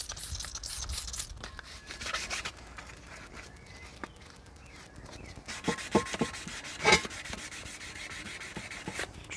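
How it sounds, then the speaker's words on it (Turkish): Steady wet rubbing strokes of 800-grit sandpaper against a wheel rim being prepared for spray painting, a continuous scraping hiss with a few louder strokes near the end, close by. "Doğrusal hareketlerle her tarafını güzelce 800'de sulu bir şekilde zımpara yapalım"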